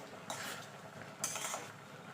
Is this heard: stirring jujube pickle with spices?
yes